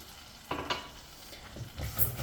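Uncooked rice tipped into a hot pan on a stove at medium-high heat and stirred to toast, giving a few soft scraping, sizzling bursts with quiet gaps between them.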